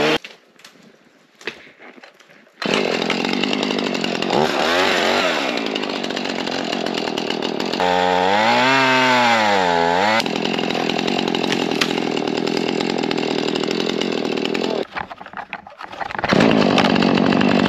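A loud chainsaw roars up after a quiet start, revving and bogging down as it cuts wood outdoors at -30°C for over ten seconds, then drops to idle briefly before revving again.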